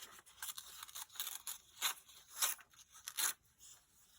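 Paper torn in short rips from the blank spots of a folio cover flap, several quick crisp tears in a row, close up and fairly quiet with no talk.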